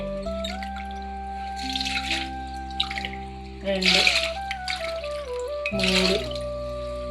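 Water is poured by the glassful into a pressure cooker holding washed rice and dal, splashing in several bursts while someone talks throughout over a steady background hum.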